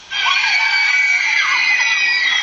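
A crowd of fans screams frenziedly and shrilly, a dense, sustained wall of high-pitched shrieking that starts abruptly and stays loud throughout.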